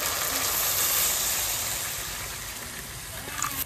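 Water poured into hot mustard oil and kasundi in a Bengali kitchen sets off a soft, steady hiss of sizzling that slowly eases, fairly quiet with no talking.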